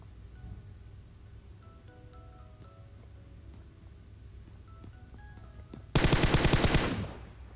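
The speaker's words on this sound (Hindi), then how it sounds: "भाई का हाथ नजर आ रहा था तो कालिया ने गोलियां मारी" Automatic gunfire in the mobile battle game PUBG Mobile, a sustained loud burst of rapid shots lasting about a second, after several seconds of quiet game ambience with faint scattered sounds.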